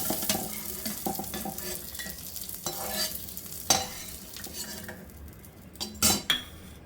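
Raisins lightly frying in a pan while being made for mochar ghonto, a banana flower dish. There is a soft sizzle under repeated stirring and metal utensil scrapes and clinks, with a few sharper knocks near the end.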